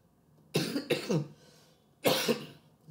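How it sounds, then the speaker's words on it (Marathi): A teacher coughs after talking continuously in class: a quick double cough, a pause, then one more harsh cough, close and loud against a quiet room. "कंटिन्यूस बोललो, खोकला येतो."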